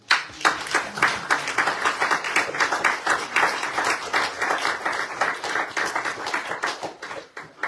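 A church congregation applauds together during an inauguration service for a training school in Montargis, dense steady clapping filling the room for several seconds without a break.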